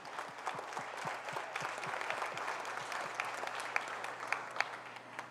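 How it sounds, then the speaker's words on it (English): An audience at an honoring event for mothers claps steadily, a fairly quiet, distant wash of applause with a few sharper claps standing out near the end, and a low steady hum runs underneath. "Let's give that a round of applause."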